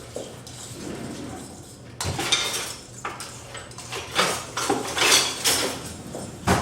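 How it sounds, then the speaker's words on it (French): Soy milk whisked in a bowl, quick rhythmic clinks and scrapes of a whisk against the bowl, close, with a faint voice in the background. "On mélange. Avec un fouet."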